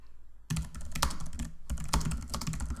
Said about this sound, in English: I type my message but hold Shift and return